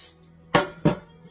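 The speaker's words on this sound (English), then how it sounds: "I'm gonna spray them really good." Cooking spray squirted onto two baking pans for banana bread: two short, close hissing bursts about a third of a second apart, in a quiet kitchen.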